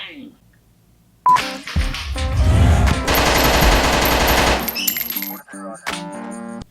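Gunfire during a film shoot comes as a dense, loud stretch of rapid overlapping shots, with sharper isolated bangs before and after, mixed with tonal electronic beeps and background voices.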